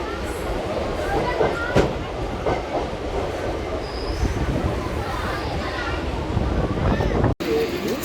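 A MEMU passenger train between Visakhapatnam and Palasa rumbles steadily with rattling carriages and clicking wheels heard from inside, under people talking.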